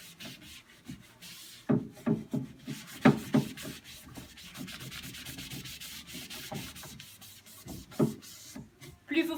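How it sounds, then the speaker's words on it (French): Wax is rubbed by hand onto wooden furniture, making an uneven rasping, scrubbing friction that comes in close, irregular strokes with brief pauses. "Et on frotte jusqu'à temps qu'on ne ressente plus la résistance."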